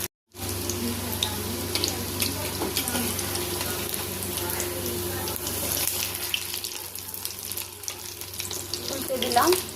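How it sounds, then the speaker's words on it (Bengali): Fish roe fritters made with little gram flour fry in oil with a loud, continuous hiss and scattered crackling pops, steady and close for the whole stretch. "বেসনটা কম দেওয়ার ফলে শুধু ফাটছে।"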